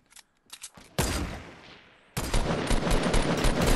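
Gunfire in the Fortnite video game: a few sharp single shots, then loud sustained automatic bursts that roar continuously, with a brief break before another heavy volley.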